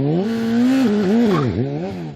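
An MV Agusta F4RR sport motorcycle engine revs with a strong tonal note that rises, falls and dips sharply before climbing again, loud and close.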